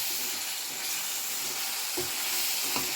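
Crab curry with chili powder stirred in a pan: continuous frying sizzle and hiss with a few scraping spoon strokes near the end, close and steady, no talking.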